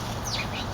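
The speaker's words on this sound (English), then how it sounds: "Birds are fighting." House sparrows squabble at a feeding spot, giving a brief burst of faint chirps and fluttering over a noisy outdoor background.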